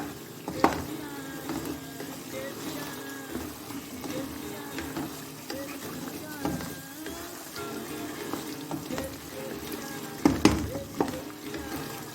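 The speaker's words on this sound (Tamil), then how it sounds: "இதை அப்பப்போ இடையில ஓப்பன் பண்ணி விட்டு இதை நல்லா கிண்டி விடுங்க" Kasuri methi malai chicken frying on a medium flame, with a soft steady sizzle, occasional spoon scrapes against the pan and a couple of louder clanks, all under a low background hum.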